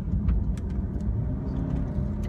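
A Land Rover Discovery Sport in sport mode on the road, its engine giving a steady low rumble from inside the cabin, with faint ticks and no talk.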